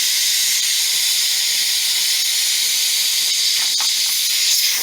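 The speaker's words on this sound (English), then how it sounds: "See all that steam? You do not want your skin to come in contact with that." Steam vents from freshly cooked pumpkins with a loud, continuous hiss that holds steady without pause, close and alone.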